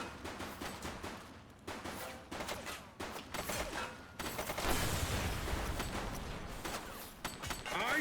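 Sharp gunshots and bursts of fire ring out in a video game, first as separate cracks spaced apart, then a denser, louder volley of shooting, mixed with game sound and some voices.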